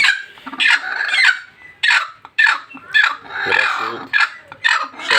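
A brooding hen sitting on eggs gives repeated close, loud clucks and throaty grumbling calls in irregular bursts, with a duck also nesting nearby.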